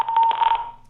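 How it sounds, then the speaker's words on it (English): A phone alarm sounds in a courtroom setting: a brief electronic tone with steady rapid pulsing, close and clear, cut off within a second. "That's my alarm."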